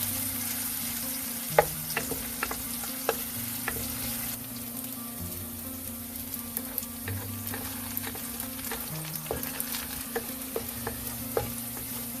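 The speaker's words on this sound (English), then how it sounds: "When you bring up the heat already, you start frying" Steady oil sizzle of stir frying shallots in a wok, with scattered sharp clicks and scrapes of a utensil against the pan throughout.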